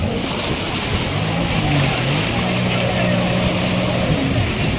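A jet ski rides over the waves off Varkala beach, a steady engine drone mixed with rushing water and surf that is continuous and fairly close, with a person talking over it.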